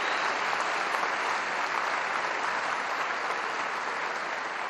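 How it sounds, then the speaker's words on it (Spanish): Crowd at a political rally in Lanús breaks into loud, sustained applause for the Buenos Aires provincial governor, dense clapping filling the whole stretch. "para quien pido un fuerte aplauso"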